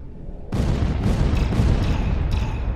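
Missile launches in a Starsector space battle: a sudden loud burst of dense, rumbling booms and blasts that keeps up steadily to the end, with further sharp bursts layered on top and no talk.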